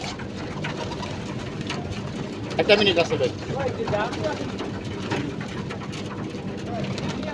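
Pigeons coo outdoors, their soft low calls mixed into a steady background hum while a person talks over them for most of the stretch.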